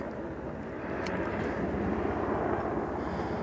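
A helicopter flies overhead on a Kedarnath pilgrimage route, a steady, broad engine and rotor roar that holds constant and fairly loud throughout with no voices.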